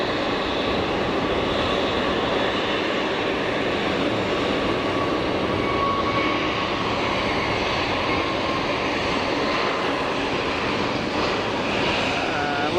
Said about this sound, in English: We've got KLM Embraer pushback as well,